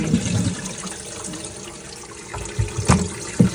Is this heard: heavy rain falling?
no